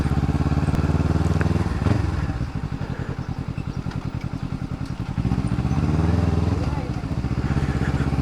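A Kawasaki Ninja 300 motorcycle being ridden, its engine droning loud and close with a steady pulsing rhythm that dips and swells as the revs change.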